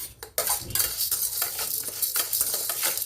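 Lentils dry roasting, scraped and stirred in a dry pan, with steady rattling and a few sharp spoon knocks against the metal, close by.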